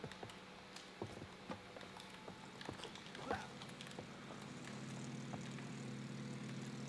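Airplane engine from the video game It Takes Two, a steady propeller drone that thickens and grows louder toward the end, with scattered clicks and game sound effects over it.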